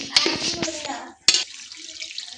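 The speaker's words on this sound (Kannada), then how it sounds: "ಸೊ ಹಳೆ ಅಕ್ಕಿ ಇರೋದ್ರಿಂದ ಸ್ವಲ್ಪ ನೀರು ಜಾಸ್ತಿ ಹಾಕ್ಕೊಳ್ಳಿ" Water is poured from a tap into a bowl of old rice being washed before soaking for pulao in a home kitchen. Splashy running water is heard with a few sharp knocks and a short pause, then a quieter trickle.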